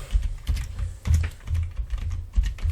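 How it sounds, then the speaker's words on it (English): Fingers tapping steadily on a computer keyboard during a Raspberry Pi IoT setup, close-up and fairly quiet, with irregular bursts of keystrokes and brief pauses, no voices. "My keyboard is acting up."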